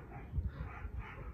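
Several dogs bark and yip somewhere in the background of a room, a muffled, brief burst of barking.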